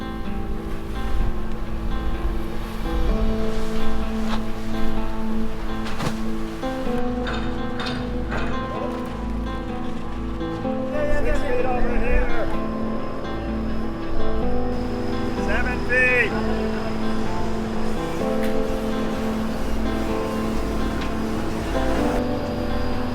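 Strong wind of about 24 knots roars steadily across a boat at a Maldives shoreline after a rain squall, with a dense, continuous rush of noise and surf, and a person talking now and then.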